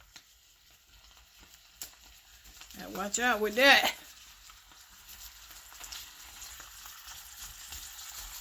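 Onions sauteing in a pan for beef sausage dogs give a faint, steady sizzle across the whole stretch, briefly covered by someone speaking in the middle.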